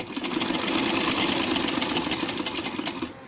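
Fabric being straight-stitched on a sewing machine for a handmade baby boy's dress: a steady, busy mechanical whirring with rapid needle chatter that runs continuously and close by, with no talking.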